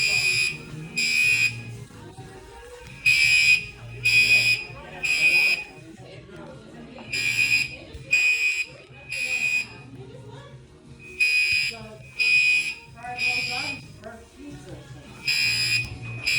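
A fire alarm going off in a hair salon during a haircut, sounding in regular loud bursts of piercing beeps with short gaps between them, while people talk underneath.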